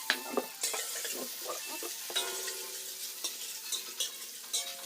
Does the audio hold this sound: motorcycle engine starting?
no